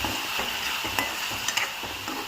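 A methi tomato curry with chili powder and salt is stirred in a pan, soft scraping strokes over a gentle sizzle, close and continuous with a few light clacks.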